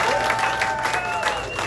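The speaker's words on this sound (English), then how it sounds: "Let's give them our Jamaican artists a big round of applause" An audience applauds Jamaican artists at a South Florida welcome event, a dense steady wash of clapping throughout the short stretch.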